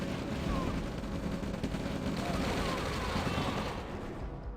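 Rifle infantry gunfire in the OpenRA Red Alert video game, a dense continuous crackle of small-arms shots layered over battle noise, moderately loud throughout with no pauses.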